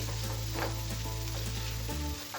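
Minced meat frying in a pan with browned onions, a steady loud sizzle with a low hum underneath, continuous until it drops off near the end.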